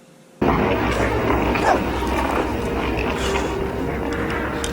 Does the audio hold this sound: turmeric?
no